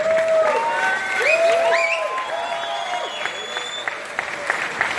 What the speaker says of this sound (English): Let's have a round of applause for Tone.